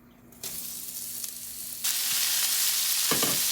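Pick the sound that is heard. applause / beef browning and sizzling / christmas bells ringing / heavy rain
beef browning and sizzling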